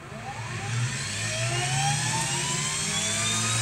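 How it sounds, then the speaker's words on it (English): The motor of a Ridgid 18V finish nailer spins up to speed with a loud, smooth whine that climbs steadily in pitch and then holds a sustained high hum, heard alone. "See if I can go ahead and run the motor up."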